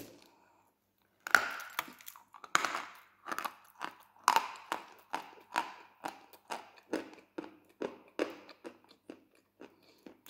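Crunchy chewing of a snack eaten at night at work, a series of sharp, close bites and crunches in a steady rhythm of about one per second after a brief silence, with no talking.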